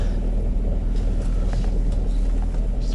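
Ford Mondeo 4 engine idling with a worn dual-mass flywheel and the clutch released, a loud steady low rumble with faint irregular knocking through it and no talk.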